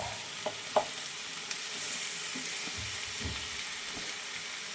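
Chicken and tomatoes fry in a pot for homemade dum biryani, a soft steady sizzle with a few light scrapes and taps of a stirring spoon, fairly quiet throughout with no talking.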